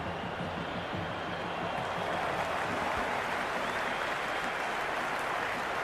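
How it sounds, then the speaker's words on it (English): A packed cricket stadium crowd at a T20 World Cup semi-final between India and England roars in a steady wash of cheering and applause, continuous and distant-sounding, with no single voice standing out. "It's evident and ever so audible that the crowd is at near bursting point at today's play."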